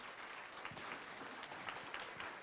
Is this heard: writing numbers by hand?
no